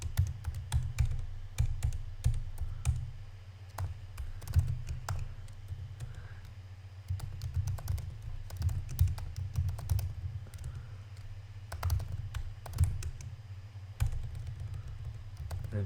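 Code being typed on a computer keyboard, a steady, close run of quick key clicks and taps with brief pauses, no speech.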